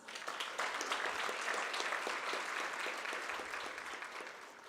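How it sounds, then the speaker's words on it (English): Warm applause from a summit audience welcoming a government minister, steady close clapping filling the whole span and easing slightly toward the end. "May I request you all to welcome him with warm applause."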